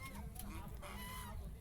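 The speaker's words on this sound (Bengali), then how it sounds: "এই যে হাঁস, প্রত্যেকটা জায়গায় হাঁস," Ducks gathered along a riverside ghat give a steady run of close quacks and clucks over a dense, constant background of low rumble and noise.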